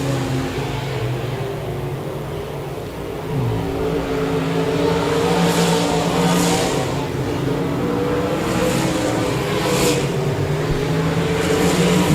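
Stock cars and RaceSaver sprint cars race at Park Jefferson Speedway during a Memorial Day Clash event, making a constant loud engine roar with revving cars passing at a distance, alone without any voices.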